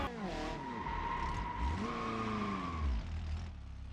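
Tires of a three-wheeled drag car squeal and skid while it drifts in BeamNG Drive, a long wavering screech over steady engine drone that rises and falls with no talking.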